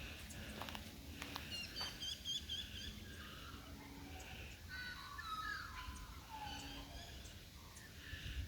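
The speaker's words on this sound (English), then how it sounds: "We're being serenaded by the magpies." Magpies calling outdoors during a walk around a property's perimeter, with a few harsh chattering and caw-like calls scattered across the clip against steady background ambience, moderately distant, with no talking.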